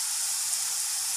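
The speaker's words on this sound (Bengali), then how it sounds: "একটু লাল করে ভেজে নেব হালকা" Sea catla fish sizzles in hot oil in a pan, a steady, close, bright hiss of frying that holds evenly throughout with no voices or other sounds over it.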